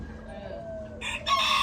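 Rooster crowing on a farm among ducks and chickens, a loud rising crow bursting in near the end over a quieter bed of faint bird calls and clucking.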